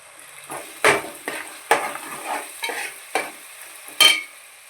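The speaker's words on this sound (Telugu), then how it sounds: "ఇవి నూనెలో బాగా వేగాలండి" Spices and onions fry in hot oil in a pan for a chicken gravy curry, with soft sizzling under about half a dozen sharp scrapes of a spoon or spatula stirring at a steady, unhurried pace.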